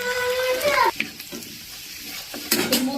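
Chopped ginger and garlic fry in hot oil with a steady, close sizzle, broken by the scrape and clatter of stirring in the pan.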